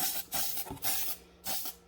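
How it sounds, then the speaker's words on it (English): Several short hissing bursts of an aerosol spray can, each about a quarter to half second long, close and fairly loud. "even coats, just spraying down"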